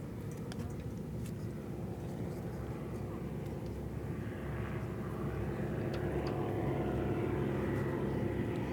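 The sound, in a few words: P-40 propeller aircraft flying overhead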